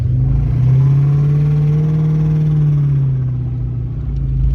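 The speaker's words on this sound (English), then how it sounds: "You kind of listen to the exhaust." A 1996 Mustang GT convertible with a swapped-in Cobra engine and lowering springs drives along a development road, its exhaust giving a steady throaty low drone that rises and eases slightly, heard from inside the car without talk.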